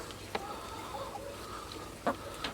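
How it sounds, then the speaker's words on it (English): A few brief, faint clucks from chickens at a distance over quiet outdoor background noise. "There's the chickens."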